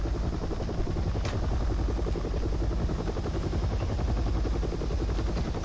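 A Resident Evil 7 helicopter roars close and loud with a dense, continuous rotor beat and engine rumble that stays level throughout, no voices.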